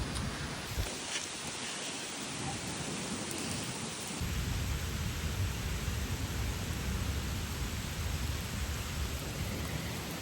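Torrential rain pours down during an outdoor walk on a sunny morning, a dense, steady hiss of heavy drops that swells noticeably louder and fuller partway through and then holds without a break.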